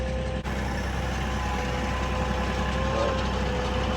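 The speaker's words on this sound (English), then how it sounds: "Sorry for the tractor noise" A tractor engine runs nearby at a steady idle, a continuous low rumbling drone that holds unchanged throughout with no voices over it.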